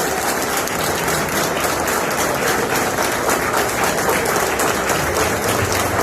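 Loud, dense applause from a large crowd, steady and unbroken throughout, with no voices rising above the clapping.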